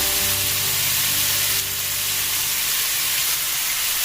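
Small diced potatoes tipped into a hot pan for a vegan jackfruit biryani, setting off a loud, close, steady sizzle and hiss that holds throughout with no talking.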